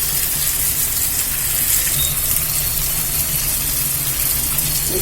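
Water poured into a pan of simmering green peas gravy with ground masala, a steady broad gush and sizzle lasting throughout, close and fairly loud, with no talking.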